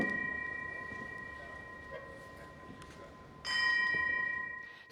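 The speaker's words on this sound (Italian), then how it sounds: "campana della pace." A large bell, the peace bell in Padua, tolls at a distance, two strikes a few seconds apart, the second louder with a long ringing hum that lingers.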